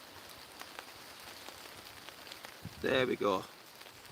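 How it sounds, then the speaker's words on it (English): Steady rain patters on a tarp outdoors at night, a soft continuous hiss with scattered drop taps, interrupted briefly by a louder close voice near the end. "the rain is coming down pretty hard now"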